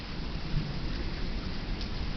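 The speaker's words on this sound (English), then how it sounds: "want to feel the rain." Steady rain from a thunderstorm hisses continuously in the open, a dense, even wash of drops with no speech and no distinct thunder clap.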